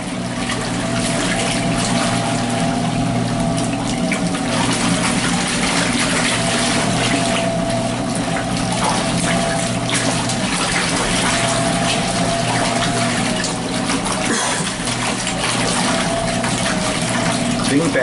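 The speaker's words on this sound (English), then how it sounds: "So I'm running the longest cycle this washer has. It's the heavy wash with soap." A Laundry Alternative Superpop washer runs its longest heavy wash cycle with soap, giving a steady churning water-and-motor drone with a faint periodic whine, continuous and close throughout.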